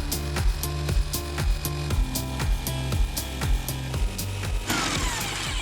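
A power saw, either a jigsaw or a circular saw, cuts through a wooden board in a rapid repeating rhythm of sharp strokes, loud and close, with a harsher grinding burst near the end.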